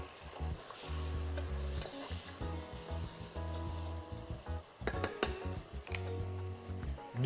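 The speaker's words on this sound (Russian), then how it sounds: "И теперь время хорошенько все промешать." Chicken fillet with ginger, garlic and ground spices is stirred in a pan, making soft sizzles and intermittent scraping and rubbing over low, steady musical tones.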